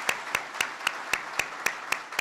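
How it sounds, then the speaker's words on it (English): Applause from an audience at a White House forum on military credentialing and licensing, heard as a steady, fairly faint patter of claps with a regular beat of sharper claps standing out, at a moderate distance. "let's just take a moment to give them a round of applause for their excellent work."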